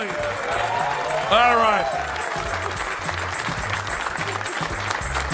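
A comedy club crowd applauds and cheers throughout, with a brief whistle-like cheer rising near the start, while a performer talks over the steady, lively noise.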